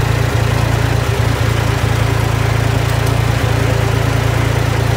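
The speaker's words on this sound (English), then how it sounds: "I've been driving a tractor on and off" A tractor engine runs steadily during hay baling on a farm, a loud, continuous low drone that holds an even pitch throughout without pausing.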